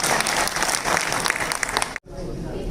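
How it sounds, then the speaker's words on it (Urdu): An audience at an All India Mushaira applauds loudly, dense close clapping from a large crowd that breaks off abruptly, followed by a quieter hall. "زوردار تالیوں سے سفر۔"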